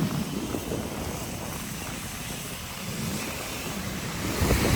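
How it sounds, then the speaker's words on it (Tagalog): Heavy typhoon rain pours beside the swollen Marikina River, a dense, steady roar of broadband hiss and rumble with gusty wind, loud and unbroken throughout. "Grabe lakas ng ulan."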